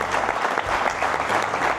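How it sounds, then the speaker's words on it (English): A large audience at a motor club's 60th birthday celebration applauds the longtime event coordinator, a full, sustained roar of clapping from many hands with no break. "We need to applaud Frik"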